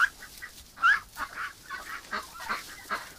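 A heavy domestic duck with an eye infection quacks and honks as it is handled, a series of short nasal calls in an uneven rhythm, close and moderately loud.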